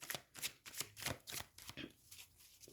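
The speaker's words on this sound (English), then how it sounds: "they're really making me shuffle for these last cards" Tarot cards being shuffled by hand during a reading, a rapid series of crisp riffling and flicking bursts in an uneven rhythm, close and fairly soft, with no talk over them.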